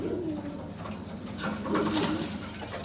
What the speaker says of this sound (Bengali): এত সুন্দর কবুতর পাচ্ছেন আপনারা